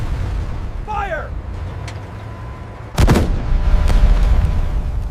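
A modified flamethrower Sherman tank fires on a concrete pillbox in WWII combat: a sudden heavy roaring blast of flame that sustains as a loud, rushing burst, following a quieter stretch of low rumble and a brief high whine.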